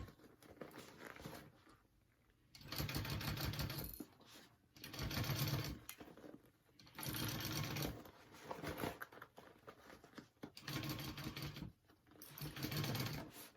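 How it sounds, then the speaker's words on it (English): Sewing machine stitching a hole closed in a backpack lining, running in about six bursts of rapid even whirring separated by short quiet pauses. "we're sewing that hole closed in the lining"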